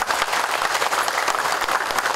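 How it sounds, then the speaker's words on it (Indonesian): Steady, dense applause from an audience at a vocational school's anniversary and launch ceremony, SMKN 1 Pagerwojo in Tulungagung, filling the whole stretch at an even, fairly loud level with no voices on top. "tepuk tangan untuk SMK ini"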